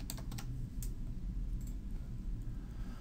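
Quiet clicking of keys on a computer keyboard while entering a value in design software, a few soft taps over a low background hum.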